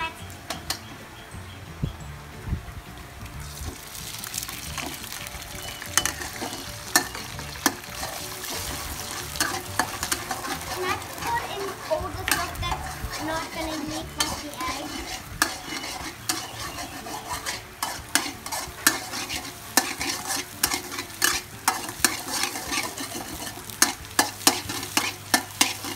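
Egg frying and being stirred in a wok for Thai shrimp fried rice, with a continuous sizzle under frequent sharp scrapes and clinks of a metal spatula against the pan, close and busy throughout.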